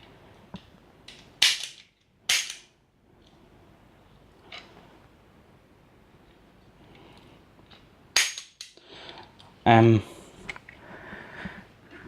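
A vintage 1950s Lonestar Gunslinger diecast cap gun fires caps: a few sharp, loud bangs spaced irregularly with quiet clicks of the mechanism between them, close up, with no one talking.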